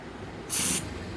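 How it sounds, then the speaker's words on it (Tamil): Throttle body cleaner sprayed onto the throttle body of a TVS Scooty Pep BS6 scooter: one sharp, close aerosol hiss lasting about a quarter second, then quiet workshop background. "இது த்ராட்டில் பாடி கிளீனர் வச்சு நம்ம க்ளீன் பண்ணுறோம்"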